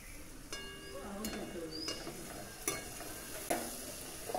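Spices and tomato fry in a pan for a Bombay duck (lote fish) curry, a soft continuous sizzle broken by several sharp spatula scrapes and taps, close and fairly quiet.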